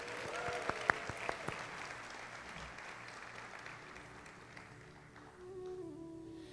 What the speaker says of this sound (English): Can we hear one more round of applause for all the girls, please?